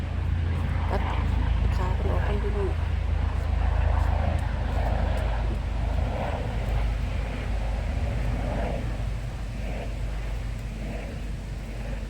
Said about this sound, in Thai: เสียงเครื่องบินนี่